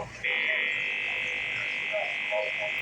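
A steady, high-pitched electronic trill, like crickets chirping continuously, holding constant throughout with faint background noise beneath.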